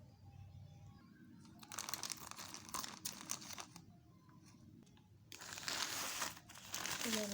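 Crinkling and rustling of plastic Daraz packing material being handled and unwrapped during an unboxing, in close bursts separated by quieter pauses.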